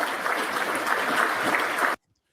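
Audience clapping steadily for about two seconds, a dense broadband patter of many hands at moderate level, ending abruptly in silence.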